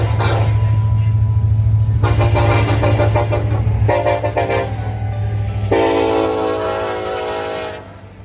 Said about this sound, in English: the crew was actually friendly enough to give us horn spam